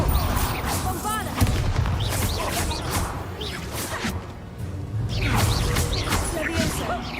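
In the video game Hogwarts Legacy, the Bombarda spell triggers a blast amid a busy fight, with booming impacts, whooshes and clattering debris. A voice shouts spell names over the mix.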